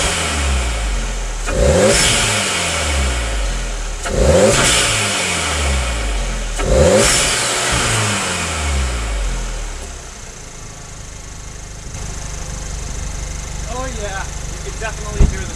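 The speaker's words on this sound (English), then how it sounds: "you'll be able to actually hear the turbo spooling up" A Volkswagen Golf R with a new air intake revs three times in quick succession, each loud rising engine swell carrying an audible turbo spool and whoosh, then settles to a steady idle, with a voice speaking over it.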